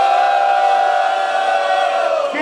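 A rap battle crowd roars and shouts together, loud and sustained for a couple of seconds with no pause.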